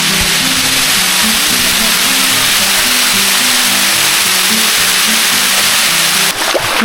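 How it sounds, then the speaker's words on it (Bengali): Ghagra waterfall in the hills of Rangamati pours in a steady, loud, broadband rush of falling water that fills the whole clip, with a soft low melodic tone running underneath and no talking. "এখন শুধু ঝর্ণার শব্দটা আপনারা শুনবেন।"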